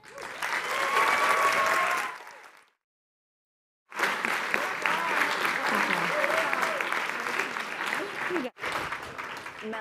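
Applause from an audience at an NWSL expansion event for San Diego Wave FC, loud and sustained claps for a couple of seconds, then a pause before another long stretch of clapping with cheering.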